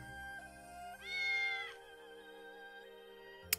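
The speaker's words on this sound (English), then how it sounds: "That was a 4-syllable meow." Long drawn-out cat meow from the video game Legend of Sword and Fairy 5, a single sustained cry over a quiet musical backdrop, followed by a short sharp click.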